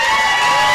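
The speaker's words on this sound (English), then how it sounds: "yourselves a round of applause" A convention hall audience at PaisanCon claps and cheers in a dense, steady wash of applause with scattered shouts, loud and continuous throughout the short burst.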